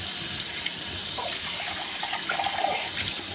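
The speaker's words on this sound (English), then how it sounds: "washing down our soap bowl, which won't need much attention because it's been soaking this whole time with soap" Tap water runs steadily into a kitchen sink while a soap-soaked bowl is rinsed, a loud continuous rushing splash heard close up with no talk.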